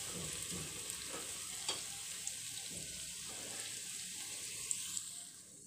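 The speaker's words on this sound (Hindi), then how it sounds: "प्याज को अच्छा हम लोग फ्राई करके लेंगे गुलाबी कलर आने तक" Chopped onions frying in oil until pink and lightly golden for a Konkani dhan shikori dish, a steady soft sizzle with a few faint stirring taps, fairly quiet and continuous throughout.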